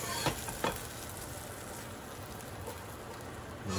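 Browned onions sizzle in a pan as they are lifted out, a steady close frying hiss with a couple of brief scraping clinks near the start and no talking.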